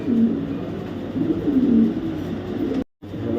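A racing pigeon gives low, throaty cooing in close, repeated warbling calls over a murmur of background noise, ending with a brief sudden dropout.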